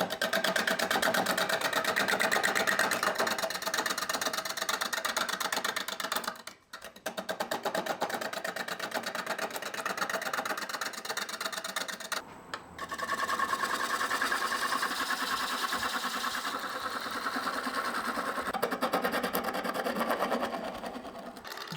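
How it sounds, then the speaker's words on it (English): A wood lathe spins an old aspen log at low RPM while a tool cuts slowly to flatten the bottom and shape the sides, giving a continuous, close mechanical whir with two brief dips. "I'm gonna start by turning at a pretty low RPM"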